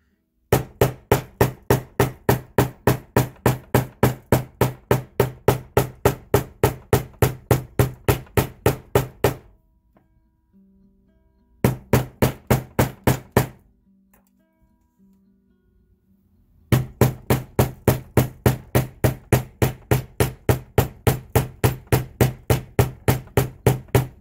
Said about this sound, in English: we're going to take our hammer and I'm going to whack it a bunch